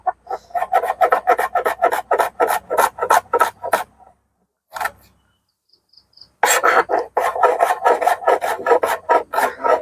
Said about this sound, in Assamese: এতিয়া নেক্সট এই পিঁয়াজটোৰ আমি সৰু সৰুকৈ একদম কাটি ল'ব লাগিব